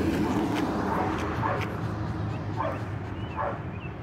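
A dog gives several short yips and whimpering barks spaced about a second apart, fairly close, over steady background noise with some voice mixed in.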